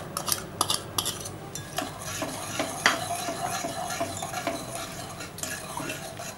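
Jaggery is stirred into water in a pan for a dahi vada chutney. A utensil scrapes and clinks against the metal in steady, uneven strokes, close and clear with a faint liquid swish underneath.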